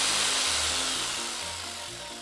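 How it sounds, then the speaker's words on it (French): A steady, high-pitched jigsaw buzzes continuously, its low hum shifting in pitch as the blade cuts through material. "scie sauteuse."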